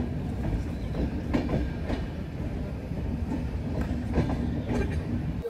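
The 12274 New Delhi–Howrah Duronto Express pulls into platform 6 at Asansol station, its wheels rumbling heavily with rhythmic clickety-clack over rail joints and faint squeals, loud and continuous.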